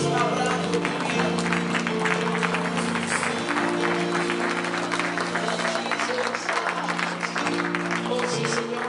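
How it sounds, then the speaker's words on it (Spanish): Applause from a church congregation during a Spanish-language worship service, continuous dense clapping blended with sustained music and voices throughout, loud and steady without a clear fade. "Cuando puedes dar un aplauso al Señor que siempre está obrando en mi vida."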